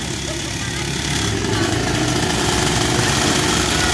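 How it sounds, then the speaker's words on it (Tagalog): Several motocross pocket bike engines warming up before a kids' race in the Philippines, a loud, continuous buzzing rattle at close range, steady throughout with crowd noise in the background. "Yan, nagkapainit na sila ng makina."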